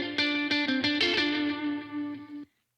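A guitar played through a Fender-like Milkman amp simulator rings out in a few bright, distorted strummed chords with effects, sustaining before cutting off abruptly.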